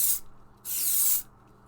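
Two short blasts of silicone spray hiss from an aerosol can onto a latex LARP sword, the second burst longer, close and clear with a quiet gap between them.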